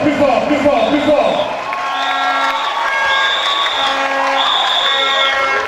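A pageant crowd at the Miss Artisan Togo 2023 contest applauds and cheers loudly and without a break, with whoops and shouts over the clapping and music sustained in the background.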